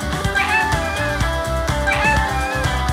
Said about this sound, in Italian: Ehi, c'è un micetto!